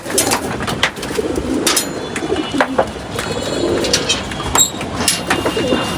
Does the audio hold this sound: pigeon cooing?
yes